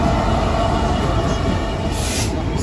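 Selby to Felixstowe freight train rumbling steadily past a level crossing, a loud, continuous close-range roar of wagons with no break across the short stretch.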